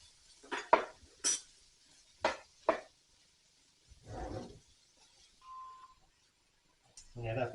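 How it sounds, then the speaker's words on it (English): Beef browning in a pot while a utensil turns and stirs it, sharp metallic scrapes and clinks against the pot in a few separate bursts, with quieter stretches and brief talk between the stirring. "just keep turning it over and stirring it until it's cooked on both sides"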